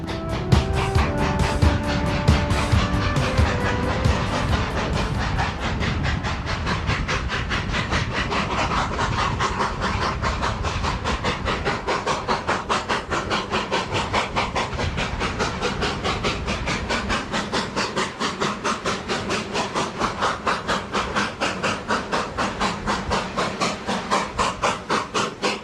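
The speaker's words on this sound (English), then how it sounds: "the train at last attains the summit of Cumbres Pass" Simulated steam locomotive climbing to the summit of Cumbres Pass on the Cumbres & Toltec line in Trainz12, rapid steady exhaust chuffs with rhythmic rail clatter, loud and close throughout, no talk.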